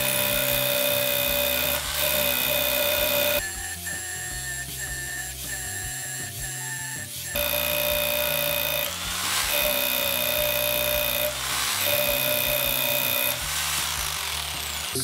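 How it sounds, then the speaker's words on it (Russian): A Crown rotary hammer drills with an 8 mm bit in a loud, steady whine, with brief pitch and load changes as it bites and pauses, running alone throughout. "на старте идет у нас перфоратор Crown"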